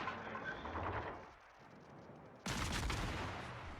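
Warship gun salvos in a naval combat video game, a heavy rumbling barrage that swells and fades, then a sudden loud new burst of gunfire near the end.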